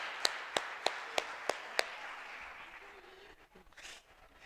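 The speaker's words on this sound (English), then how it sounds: "Give them a big round of applause." Clapping at a tennis player development workshop: six sharp, evenly spaced claps ring out close and clear, then give way to faint room noise and soft rustling.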